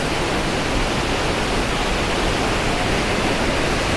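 Green Falls in Tago, Surigao del Sur roars as a dense, unbroken wash of falling water. It is loud and close, with no voices over it.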